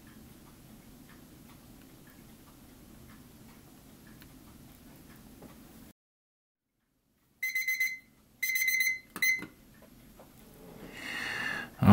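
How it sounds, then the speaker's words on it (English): After a stretch of quiet ticking and a moment of silence, a 10-minute kitchen timer rings in three loud, sharp bursts close by, followed by a rising rustle. "Okay, that was my timer for 10 minutes."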